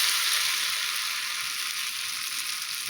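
Ghevar batter for a Rajasthani festive sweet poured in thin streams into hot fat, giving a loud, steady, dense sizzle and crackle that holds unbroken from start to finish, with no voices.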